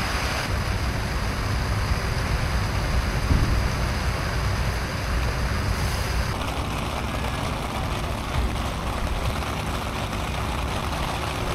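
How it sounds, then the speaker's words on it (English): Steady rain hisses loudly and evenly throughout, with a low rumble beneath it and no talking. "maybe the rain will let up a little bit"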